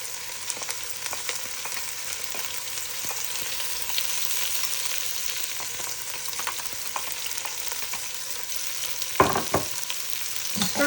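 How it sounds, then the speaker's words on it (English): Diced green peppers and other vegetables fry in bacon fat for chili, giving a continuous close sizzle with occasional stirring scrapes and clatter near the end. "Stir this all around till it gets nice and fragrant, covering it in all of that wonderful bacon fat that was down in there."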